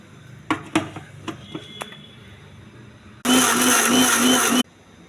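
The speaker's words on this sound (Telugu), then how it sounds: "పల్లీలు, కొంచెం జీలకర్ర, కొన్ని ఆవాలు, టమాటా మొత్తం మిక్స్ చేయాలండి." A mixer grinder whirs loudly in one short burst of just over a second, blending peanuts, cumin, mustard seeds and tomato, after a few sharp clicks and knocks from handling the jar.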